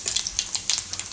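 Asafoetida and cumin seeds sizzle in hot oil for a Gujarati besan bhurji, giving a steady close crackle with quick bright spits and pops and no voices.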